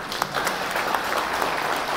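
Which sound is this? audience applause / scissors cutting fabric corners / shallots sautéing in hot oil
audience applause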